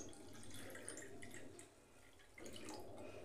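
Chilled water pours steadily into mint and lemon sharbat, a continuous close splashing stream with a brief dip in the middle before resuming, with no talk.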